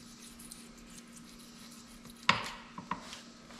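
Excess paint is scraped off the rear axle housing of a Camaro SS 10-bolt rear end. A faint hum is broken by one sharp scraping stroke and two smaller scratches close by.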